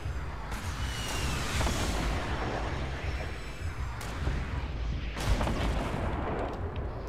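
Dense, continuous gunfire in the Fortnite video game during a duo match, with bursts of shots and booming impacts layered over a steady roar, loud and close throughout.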